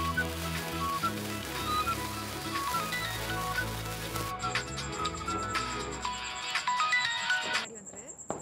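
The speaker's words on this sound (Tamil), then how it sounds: "ஃபோன் அடிக்குது." A phone ringtone rings as a steady repeating electronic melody over background music, with a faint rain-like patter in the mix and no voices heard.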